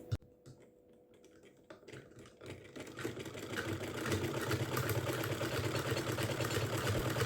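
A household sewing machine, just repaired for skipped stitches, starts up after a few quiet clicks and settles into a steady, fast mechanical whir that grows louder and runs continuously.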